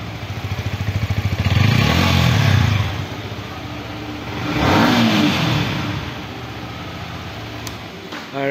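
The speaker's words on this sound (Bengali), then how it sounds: "আমি সাইলেন্সার নোটটা একবার শুনিয়ে দিচ্ছি আপনাদেরকে" A 2022 Yamaha MT-15 V2 Monster Edition motorcycle revs through its exhaust in two loud, close blips with a steady idle between them, and no voices are heard.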